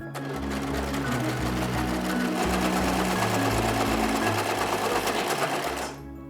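An overlocker sewing machine runs continuously through fabric, a loud, steady mechanical whir with a rapid stitching rattle that stops abruptly near the end.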